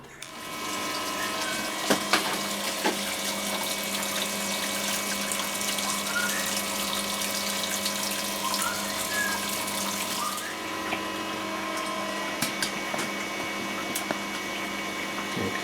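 A pump hums and whirs steadily, recirculating brewing liquid through a heat exchanger into a mash tun, with flowing water and occasional clicks over a constant mechanical drone.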